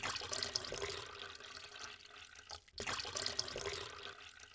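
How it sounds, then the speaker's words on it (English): Lukewarm water pouring steadily into a bowl for Moroccan baghrir pancake batter, a continuous close splashing rush that breaks off briefly midway and then resumes. "we're going to start with lukewarm water, just a little over 3 cups"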